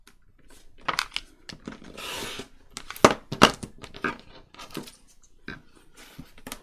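Paper being cut by hand for a folio junk journal, heard up close as a run of crisp, irregular snips and papery rustles with brief pauses between cuts.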